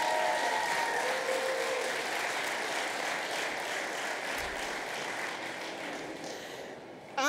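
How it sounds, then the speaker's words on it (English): A crowd at a community event applauds young people, a broad, even wash of clapping that holds steady, moderately loud, and stops abruptly at the end. "So let's give them a round of applause."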